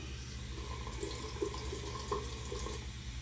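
Running tap water rinsing shaving soap off, a steady, moderately quiet wash of flowing water with a few faint splashes, close by and with no talk.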